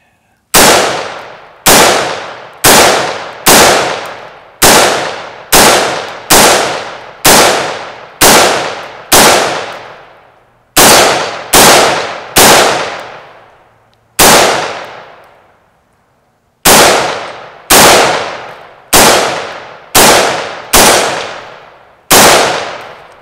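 Rifle set in a Reap Weaponries SCY chassis fires about nineteen loud, sharp shots in a steady rapid string with a few short pauses, each report ringing out briefly, with no talking.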